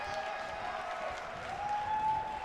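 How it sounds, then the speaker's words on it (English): Applause from a wrestling show crowd: steady, fairly faint clapping and crowd noise from the arena that swells a little toward the end. "They're going to have an athletic competition here tonight as the fans applaud their skill and technique."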